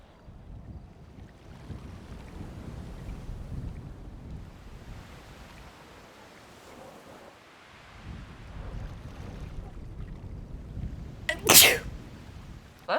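A single sharp sneeze bursts out near the microphone toward the end, outdoors by the sea with steady wind and surf rumbling underneath.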